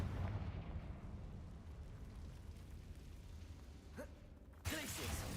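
A Confringo fire spell from Hogwarts Legacy erupts as a sudden loud blast near the end, bursting out over a steady low rumble of game ambience after a brief whooshing cast.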